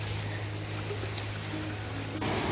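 Deep Creek runs over a trail ford in the Great Smoky Mountains, giving a steady, close rushing wash of water with no voices, and a faint shift in tone near the end.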